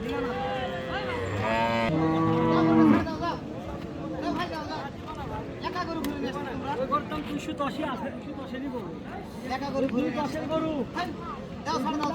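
A Friesian cow gives one loud, drawn-out moo up close at a busy cattle market in Raniganj, Dinajpur, followed by steady crowd chatter and nearby voices talking.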